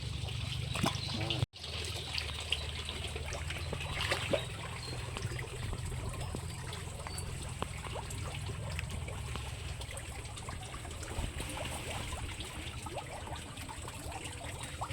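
A village creek in the Philippines trickles steadily for the whole stretch, a continuous close watery babble with a dull rumble beneath and one brief dropout near the start.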